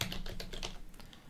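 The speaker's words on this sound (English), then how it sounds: "That's a little bit of typing here." Rapid typing on a computer keyboard during a Linux terminal session, a quick run of close, crisp key clicks with a few short pauses, no voice.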